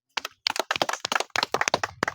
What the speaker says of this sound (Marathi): एकदा टाळ्या यांच्यासाठी.